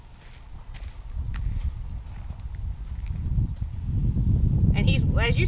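Horses walking nearby, their hooves clip-clopping in an irregular rhythm that grows louder toward the end, with some rustling around them.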